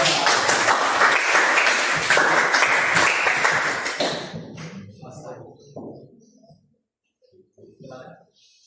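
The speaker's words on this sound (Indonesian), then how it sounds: "Kita berikan tepuk tangan dulu untuk kelompok 2." Classroom applause for a student group about to present, dense clapping for about four seconds that quickly fades, followed by faint scattered sounds and quiet voices.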